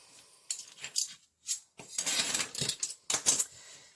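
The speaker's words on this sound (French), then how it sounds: "Et avec mon cutter, je viens couper" A craft knife slices through paper on a work surface in a series of short, close, crisp scraping strokes with brief gaps between them, with no voice over it.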